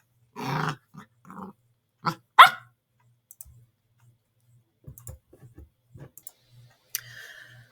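A dog gives short sharp barks and yips in quick bursts near the microphone, separated by faint ticking clicks and quiet gaps.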